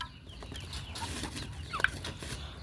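A Peruvidai rooster gives soft, brief clucks amid a quiet farmyard, with one sharper cluck standing out near the end.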